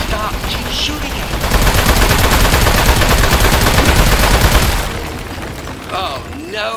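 Sustained loud burst of rapid automatic gunfire in the video game Aperture Desk Job, dense and close for several seconds before tapering off, with short robotic voice snippets around it.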